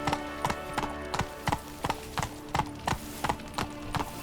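Roach the horse gallops in The Witcher 3, hooves clip-clopping close and loud in a steady, rapid rhythm of paired strikes throughout.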